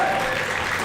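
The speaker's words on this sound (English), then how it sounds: "Another big cheer." Spectators at a live event roar and clap in a brief, dense burst of cheering and applause, loud and continuous.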